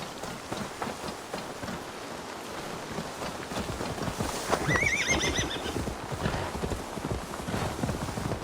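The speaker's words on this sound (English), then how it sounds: "Now to deliver Magni his horse" A horse in Assassin's Creed Valhalla gives a clear whinny midway through, over steady clip-clop hoofbeats and a rain-like hiss throughout.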